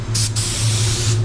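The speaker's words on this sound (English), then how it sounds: "30 PSI is what I spray the sealer at." A steady, continuous hiss of a spray gun spraying sealer at 30 PSI onto a bumper piece, close and loud, with a brief dip in the high hiss early on.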